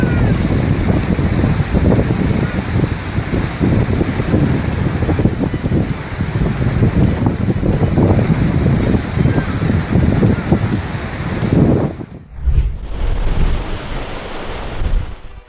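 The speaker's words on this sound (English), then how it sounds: "Two storms created strong winds and high waves eroding the beach and affecting homes nearby" Strong winds and high waves pound a beach during a storm, a loud continuous roar with rumbling gusts and wind buffeting the microphone, cutting off sharply near the end before resuming.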